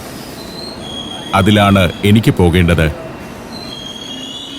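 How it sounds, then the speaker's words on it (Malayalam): A train passes a German railway station platform, its wheels squealing steadily beneath a loud rolling rumble that lasts the whole clip, with someone speaking briefly in the middle. "ആ ട്രെയിൻ കടന്നുപോയി."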